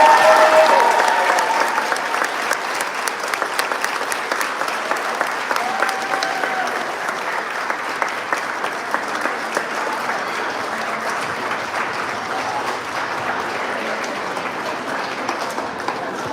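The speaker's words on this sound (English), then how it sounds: "Everyone, one more time, big round of applause for the teachers." An audience applauds the 2023 Maine County Teachers of the Year with sustained, dense clapping that starts strong and gradually eases, continuing steadily for a long stretch.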